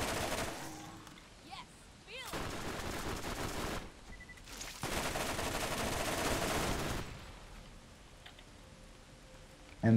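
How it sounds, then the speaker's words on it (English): SMG fire in Borderlands, several bursts of rapid shots separated by quieter gaps, moderately loud over a low game background. "This SMG is really good."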